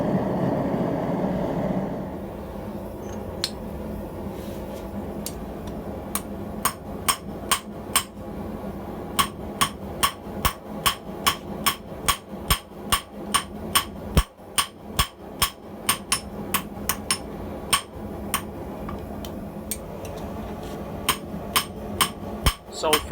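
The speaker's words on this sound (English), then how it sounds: "W1 moves very well under hammer blows" Steady metallic hammer blows on hot W1 tool steel for scissor pieces ring out in a fast, regular rhythm over a low forge roar, close and sharp, continuing for a long stretch.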